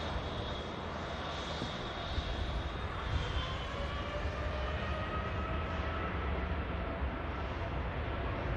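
A TUI Boeing 787 Dreamliner takes off from Manchester Airport, its engines a steady, broad roar with rising whining tones, heard from a distance and sustained throughout.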